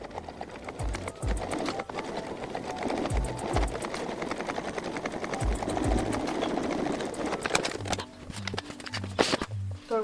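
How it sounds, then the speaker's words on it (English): A sewing machine edge stitches a coat pocket, its close motor whirring in uneven runs with low thumps from the needle and fabric handling throughout. "I'm just going to edge stitch."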